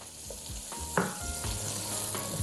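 Onions fry in a pan for an Algerian dish, giving a steady close sizzle and hiss with a few sharp crackles and soft clicks from the pan throughout.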